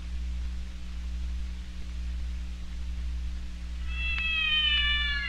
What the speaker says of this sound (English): And the kittens in the barn have to be fed,